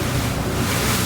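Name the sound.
water splashing over riverbank, wind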